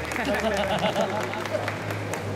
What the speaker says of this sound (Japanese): 優勝チームに拍手を拍手をしましょ